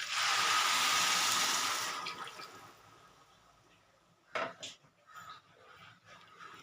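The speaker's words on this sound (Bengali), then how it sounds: "4 কাপ জল দিয়ে দিলাম।" Water poured into a pot of rice for prawn pulao makes a loud rushing splash for about two seconds that fades out, followed by a few soft knocks and clinks.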